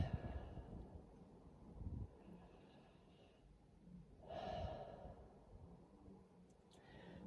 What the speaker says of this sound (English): Taking deep breaths.